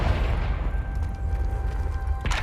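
Casting the Confringo fire spell in Hogwarts Legacy gives a sustained, rumbling boom with a crackling, mechanical texture, ending in a brighter burst as the effect resolves.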